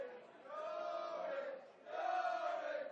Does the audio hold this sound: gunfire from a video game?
no